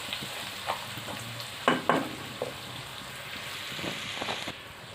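Slit green chilies fry in a pan for beef keema pulao, giving a steady close sizzle broken by a few sharp clinks and scrapes of stirring, with no talk.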